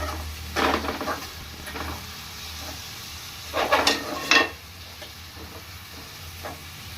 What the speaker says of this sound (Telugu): కాస్త గోల్డ్ కలర్ వచ్చే వరకు వేయించుకున్నామండి.